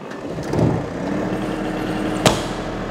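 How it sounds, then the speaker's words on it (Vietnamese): A Japanese original low-speed generator engine runs at a moderate steady hum, with a brief knock and a sharp click rising over the drone. "còn đây là máy phát điện động cơ tua chậm zin này"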